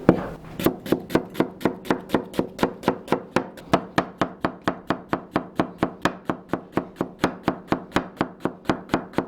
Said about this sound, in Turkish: Ben bütün malzemeleri elle doğrayacağım.